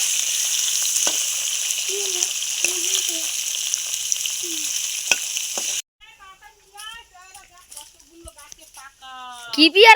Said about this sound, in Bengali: এইবার আমি মাছগুলো ভেজে নেব।